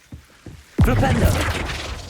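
A Flipendo spell cast in Hogwarts Legacy bursts out as a sudden loud magical whoosh with shimmering, crackling tail, following a few soft footstep-like taps, while a voice calls out the spell name.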